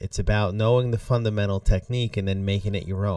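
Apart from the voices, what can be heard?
No everyday noises stand out.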